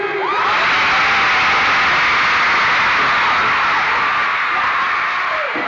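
A huge arena crowd at a concert in Johannesburg screams and cheers in one loud, unbroken roar with no pause.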